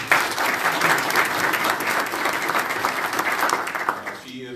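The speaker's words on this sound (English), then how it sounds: "just give her a round of applause." Sustained, loud audience applause for a program supervisor at a community initiative event, many hands clapping steadily and close before trailing off at the very end.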